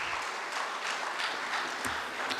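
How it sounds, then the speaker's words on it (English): Sustained applause from an audience at a student induction program, a dense, even wash of many hands clapping together, moderately distant and continuous throughout. "Please give a big round of applause for ACC."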